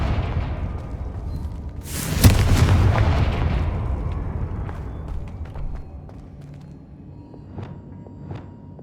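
A Confringo blasting spell explodes in Hogwarts Legacy, one loud booming blast with a crackling burst, then a rumbling decay and scattered faint pops and clicks afterward.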